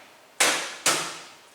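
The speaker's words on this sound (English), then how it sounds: "we're going to have to use our hand like a hammer." Two sharp, loud slaps of a hand striking a knife blade like a hammer to split a chicken in a home kitchen, evenly spaced with ringing decay, no talk.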